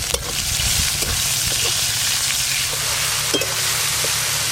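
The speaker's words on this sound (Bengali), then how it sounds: "তেল গরম হয়ে গেল, প্রথমে 5 ফোড়ন দিয়ে দেব। এবার দেব টমেটো কুচি, হলুদ গুঁড়ো, সামান্য একটু লবণ দেব।" Tomato, turmeric and five-spice (panch phoron) hit hot oil in a home curry pan for a fish jhal, giving a steady loud sizzle and crackle that runs throughout with a few small stirring clinks.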